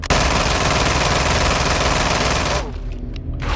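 Sustained automatic gunfire in Call of Duty Warzone, a loud, dense stream of rapid shots aimed at a target during an in-game event, cutting off sharply near the end into a brief quieter tail with a few scattered bursts.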